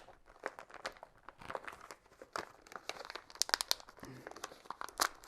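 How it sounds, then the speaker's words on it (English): Tough plastic packaging around a TV antenna being pulled and torn open, giving close, irregular bursts of crinkling and crackling with short crunchy snaps, quiet overall and with no talking. "Pretty tough plastic it's wrapped in."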